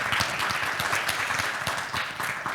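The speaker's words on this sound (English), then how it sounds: "A huge round of applause" Dense applause from a conference audience after a panel discussion, loud and continuous, with many hands clapping at once.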